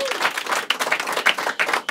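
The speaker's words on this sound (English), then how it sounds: "a round of applause" A studio audience bursts into applause, a dense patter of many hands clapping at once, steady and fairly close for a couple of seconds.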